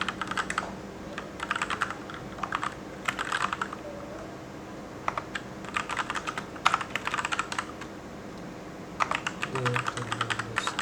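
Keys clatter on a computer keyboard in quick irregular bursts with short pauses between, close and moderately quiet against a faint background hum.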